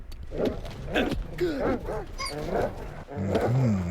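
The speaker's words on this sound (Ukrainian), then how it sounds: "Так, а це песики." Dogs in the S.T.A.L.K.E.R. 2 video game bark and growl in a swamp area, a series of nearby, fairly loud yelps and snarls with some game noise underneath.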